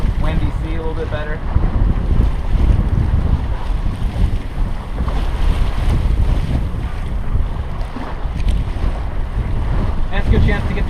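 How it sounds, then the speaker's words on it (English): Sailboat under way on Lake Michigan: steady loud wind buffeting the microphone over continuous wash of waves against the hull, with faint voices buried in the roar. "we'll be sailing here, enjoying Lake Michigan"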